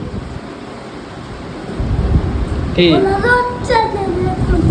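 Steady rain hisses with a low, rolling rumble of thunder underneath, and a voice briefly cuts in near the end.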